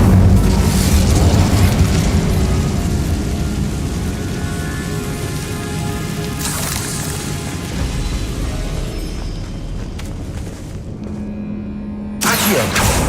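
An Incendio fire spell in a wizarding video game bursts with a loud, broad roaring whoosh that slowly fades, followed by another flaring burst and a sudden sharp blast near the end.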